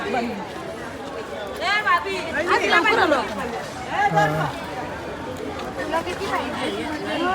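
Busy morning crowd at a fish market, a dense babble of many voices close by, with louder calls and bursts of nearby talk rising over the steady hubbub.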